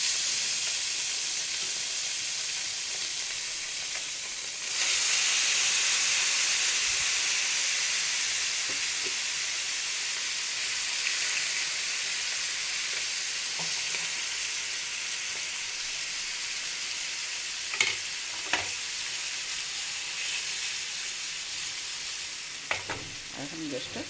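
Marinated fish fries in hot oil with nigella seeds, giving a loud, steady sizzle and hiss throughout, with a few faint clinks of stirring near the end.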